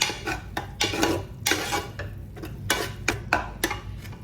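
A utensil clanks and scrapes against a cooking pot in an irregular rhythm of close, distinct knocks while ground masala is mixed in, with no voices.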